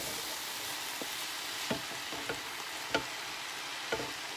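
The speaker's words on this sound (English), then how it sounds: "then I'm going to throw the mushrooms in to have them all cooked together" Mushrooms frying in a pan give a low, steady sizzle with a few light clicks of a utensil against the pan, fairly quiet and with no talking.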